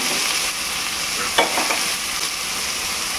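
Drumsticks sautéing in a pan, a loud steady sizzle of frying with a short scrape of stirring in the middle, close and with no talk.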